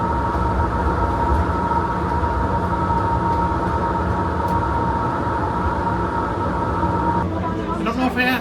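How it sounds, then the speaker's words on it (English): Seattle-Tacoma Airport's airport train rumbles and whines steadily at close range, with a sustained tonal hum, before some rattling and clatter near the end. "we got to get on this train."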